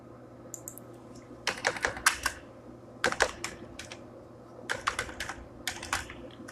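Keys clatter on a computer keyboard in close, quick bursts of typing separated by short pauses, over a quiet steady room hum with no speech.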